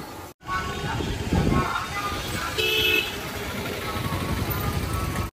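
Busy road traffic outside Rajahmundry railway station, with a steady roar of passing vehicles, engines and several car horn toots scattered across a continuous, fairly loud wash of street noise.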